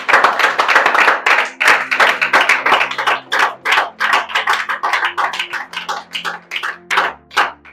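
A church congregation claps during worship, with steady rhythmic hand-clapping that is loud and close throughout over a low sustained musical tone.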